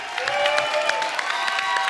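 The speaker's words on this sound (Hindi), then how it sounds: "एक बार जग्गू दादा के लिए जोरदार तालियां, और हमारे सब कलाकारों के लिए जोरदार तालियां" A studio audience applauds Jackie Shroff and the performing artists on the Kapil Sharma comedy show, a brisk burst of many hands with light cheering and a sustained musical tone beneath.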